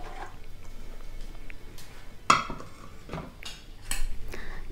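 A metal cooking pot of bottle gourd milk kootu is lifted off the stove, with clanks and scrapes of pan and utensils, one sharp clang standing out, close and clear.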